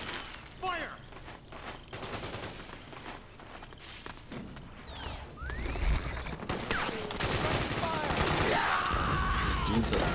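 Scattered gunfire in the stealth-action game Metal Gear Solid 4: Guns of the Patriots, a battlefield din of shots, footsteps and effects building louder over ten seconds, with a player talking.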